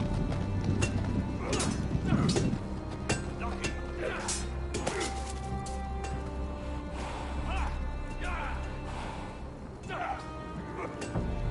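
Horse hooves clip-clopping as a rider arrives at a giant-built fortress in a Game of Thrones game, with irregular clops and thuds under ambient music and background voices.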